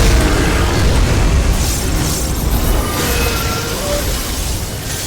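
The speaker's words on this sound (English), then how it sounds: "And then those explode" Area-of-effect explosions in Final Fantasy XIV combat: a dense, continuous booming rumble of blasts layered over busy game noise, loud and sustained throughout with no clear gaps.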